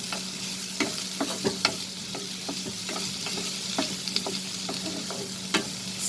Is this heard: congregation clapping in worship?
no